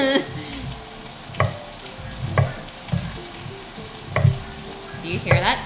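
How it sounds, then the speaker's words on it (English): Food fries in a pan for Thai massaman chicken curry, a steady sizzle with periodic stirring clatters and scrapes, close and fairly loud with no talking. "Do you hear that sizzling?"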